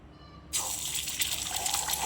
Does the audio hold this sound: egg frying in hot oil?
yes